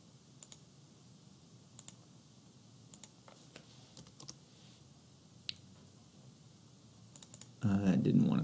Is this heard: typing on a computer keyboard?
yes